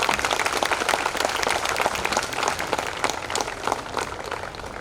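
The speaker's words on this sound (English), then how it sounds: "Please give them a huge round of applause for them." Audience applause for students' cultural performances at an Independence Day program, a dense, steady patter of many hands clapping that fills the whole stretch without pause.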